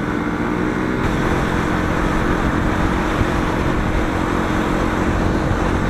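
Group of motorcycles, including a loud Bajaj Pulsar NS 200, riding together on a Sunday group ride, with three bikes ahead and three behind; a steady, dense engine roar with heavy wind rumble fills the whole stretch, no talk.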